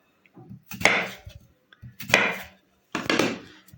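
A knife cuts through a pumpkin, making finger-wide slices for a Turkish pumpkin dessert. Three separate firm chopping strokes land about a second apart, each with a short crunch and scrape, close and clear with no talking.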